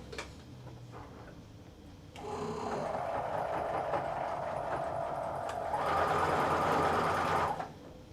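A sewing machine runs in a steady, rapid stitching whir that starts after a quiet moment and carries on continuously, growing slightly louder and busier near the end before stopping abruptly.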